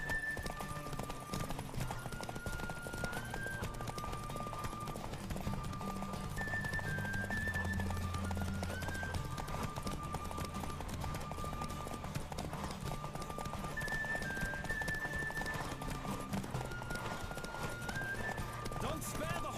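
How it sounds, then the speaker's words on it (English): Hooves of a galloping horse in a race from the video game The Witcher 3, a steady rapid clip-clop continuing throughout at moderate level, mixed under game music and voices talking. "Don't spare the horse!"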